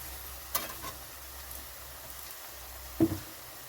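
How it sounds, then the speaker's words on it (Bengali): Onions frying in a pan for chicken kosha make a faint, low sizzle, broken by two brief clinks of a spoon or spatula against the pan. "এখানে আমার পেঁয়াজটা একটু লাল লাল হয়ে গেছে, সেরকম ভাজা ভাজা হবে।"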